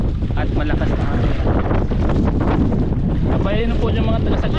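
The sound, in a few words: strong wind at sea on a boat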